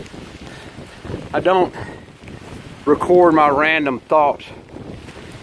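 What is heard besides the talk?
wind blowing on a mountain trail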